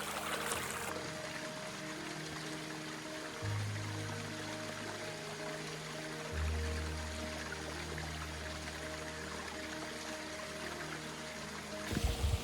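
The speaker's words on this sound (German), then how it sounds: "Der Pfad führt einfach mal mitten durch so einen Bach oder Fluss." Water of a stream or small river running straight across a forest hiking trail in Slovakia, a steady broadband rush with low motor-like hum, continuous and close, no talk.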